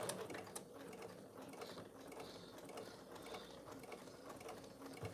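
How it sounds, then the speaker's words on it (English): A sewing machine straight-stitches thin oven mitt fabric, a steady fast mechanical ratcheting and clattering run that holds at an even, close level throughout with no talk. "go on the thumb corner, go past it, and do a straight stitch, and then come back up around"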